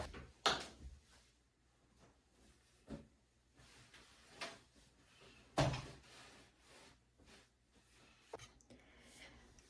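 Bathroom drawers slide open and shut while items are emptied out during decluttering. There are several sharp clacks and thuds at irregular intervals, with soft rummaging and shuffling in between, close by and fairly quiet.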